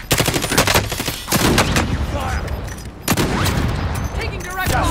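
Call of Duty Modern Warfare gunfire in a firefight: rapid bursts of automatic shots and heavy reports, loud and close, coming in dense clusters with short pauses.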